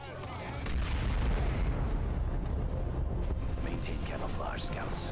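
A mine blows up under a tank in the Dawn of War 2 strategy game, a loud, rolling boom that rumbles on for several seconds along with dense battle noise.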